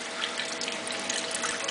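Grape juice is poured slowly through a filter for jelly making, a soft continuous liquid trickle and splash that stays steady and fairly quiet.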